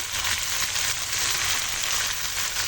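Chicken with tomatoes, turmeric, chili powder and salt fries in a pan over a wood fire, giving a soft, steady sizzle with no voices.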